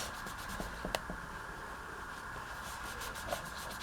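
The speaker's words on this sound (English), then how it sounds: "I'm just going to take a diaper wipe here and just rub across everywhere" A diaper wipe rubbed back and forth across collage paper made with Stabilo pencils, a soft continuous scuffing with a few small taps, close and quiet.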